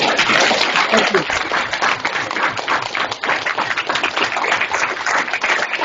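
Warm audience applause for Pro Football Hall of Famer Kellen Winslow, dense close clapping throughout with some voices mixed in beneath.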